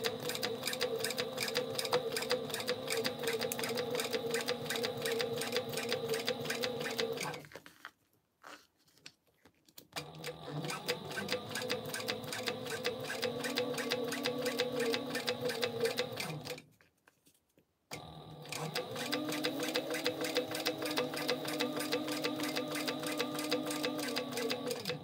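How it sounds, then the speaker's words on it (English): A sewing machine top-stitches TPU clear vinyl, running in fast rhythmic needle bursts that stop twice for short pauses before starting up again, loud and close. "so now we're just going to stitch this, top stitch this."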